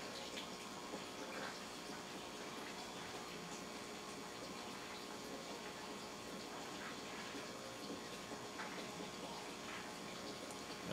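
Water being poured onto potting soil in a plant pot, a steady soft wash of trickling and soaking that runs unbroken and fairly faint throughout.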